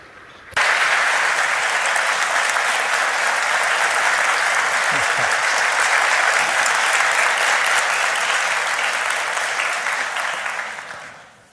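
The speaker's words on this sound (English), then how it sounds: "Please welcome the minister with a big round of applause." A large audience applauds steadily to welcome India's External Affairs Minister at the Nikkei Forum, a sustained, loud wash of clapping that begins abruptly and fades out near the end.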